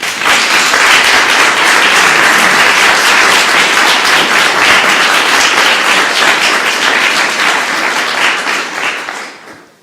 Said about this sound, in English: Shall the rest of us give them a round of applause?